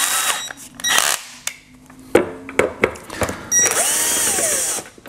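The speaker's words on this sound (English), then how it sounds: "I'm going to take the screws out of the bottom. I'm going to do the charger first." A power drill backs screws out of a Ryobi 40V charger in short whirring bursts, stopping and starting with clicks and rattles between runs, close and clear with no talking.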